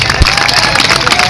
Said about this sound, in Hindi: एक बार झूम के ताली बजाओ।